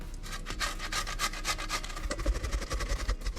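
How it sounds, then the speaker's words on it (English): Halved tomatoes are rubbed against a hand grater, making a steady, close rasping scrape in quick repeated strokes with no talking. "Get the tomatoes. We're gonna grate them."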